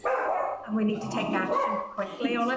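A dog barks in a room during a video call, several sharp barks mixed in under a man's ongoing speech, close and fairly loud.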